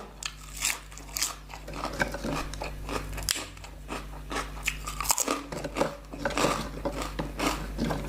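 Crunchy bites of pork cracklings eaten close up, a steady run of sharp crackling chews and bites with no talking, alongside a Thai spicy papaya salad with fresh shrimp and salmon.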